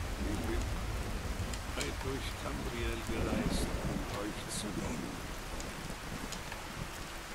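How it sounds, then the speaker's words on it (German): Rain in the Skyrim video game, a steady hiss of falling drops on surfaces with occasional sharper drips, continuous and moderately loud throughout, with a voice faintly present underneath. "Es regnet."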